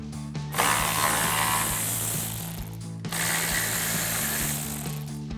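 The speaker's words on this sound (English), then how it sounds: "we're going to be removing these 2 screws with a 7mm socket, socket extension, and a ratchet" Ratchet with a 7mm socket and extension backing out screws on a Mustang GT bumper, two close runs of rapid clicking separated by a brief break.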